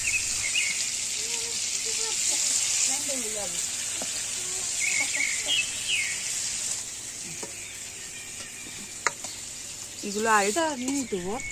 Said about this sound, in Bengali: কড়ার মধ্যে তেল দিয়ে ভাপে রাখা সেই মোচাগুলো দিয়ে দেবো, দিয়ে অল্প অল্প করে ভেজে নিতে হবে।